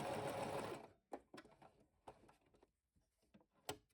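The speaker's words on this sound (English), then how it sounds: "Now we head over to our sewing machine." A sewing machine runs a fast, steady stitching whir through fabric while sewing a dart, then stops and is followed by scattered soft clicks and handling noises, close and quiet.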